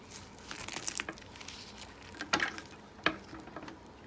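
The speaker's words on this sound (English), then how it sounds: "Let me see if I can cut one open for y'all." Knife cutting through the crispy fried wrapper of a roast beef eggroll, giving a soft, close crackle with several sharper crunches near the end and no speech.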